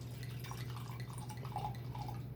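Wine pours steadily into a glass, a continuous soft liquid trickle with faint dripping, close and without talk.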